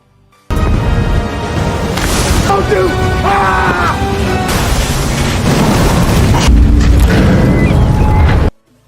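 A ship crashes into rocks in a film scene after the crew jump off: loud, sustained booming crash and rumbling impacts under a dense score with voices and tonal swells, swelling toward a heavier burst near the end.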